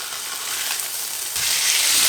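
BBQ pork chops cooking in a pan on a stovetop, a loud, close, continuous sizzle of hot fat that swells a little louder toward the end, with no voices.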